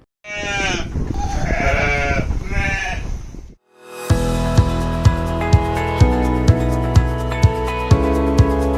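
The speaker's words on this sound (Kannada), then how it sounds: "ಅಲ್ಲೆಲ್ಲ ಆಡು ಕುರಿ ಟಗರುಗಳು ಕೂಗುವ ಬ್ಯಾಬ್ಯಾ ಸದ್ದು" Goats, sheep and rams on a farm with a shed for over three hundred sheep; a few loud bleats ring out close by, then regular thudding beats with music take over.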